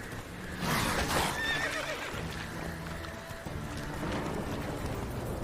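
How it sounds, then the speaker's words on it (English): A horse in The Witcher 3 gives a loud whinny and then gallops, hooves pounding in a steady rhythm under game ambience, with no talking. "Run, horse, run!"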